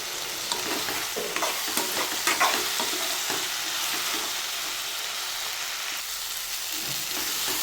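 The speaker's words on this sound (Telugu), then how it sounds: "ఇదంతా ఇప్పుడు ఫ్రై చేసుకుందాం. టమాటో అంతా మెత్తగా ఉడికిపోవాలి." Chopped tomatoes fry in a pan for a dhaba-style chicken curry, a steady close hiss of sizzling oil with a few stirring scrapes and no voices.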